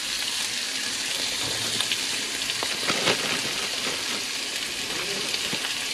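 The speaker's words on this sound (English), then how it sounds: "cooking up a bunch of bacon" A batch of strip bacon frying in a pan, a steady bright sizzle and crackle with small pops, close and continuous with no talking.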